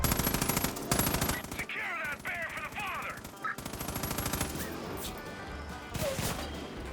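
Gunfire in Far Cry 5 rattles in rapid automatic bursts, loud and close, with a few gaps and scattered impacts, and a brief chattering sound in the middle.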